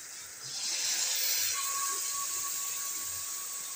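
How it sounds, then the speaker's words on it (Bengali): Poppy seed paste hits fried pointed gourd in a hot pan, a close, continuous sizzling hiss that swells quickly and holds steady, with faint stirring clatter. "আমি ভেজে রাখা পটলগুলো দিয়ে দিয়েছি, দিয়ে খুন্তি দিয়ে নাড়াচাড়া করে তার মধ্যে আমি যে পেস্টটা করেছিলাম সেটা দিয়ে দিচ্ছি।"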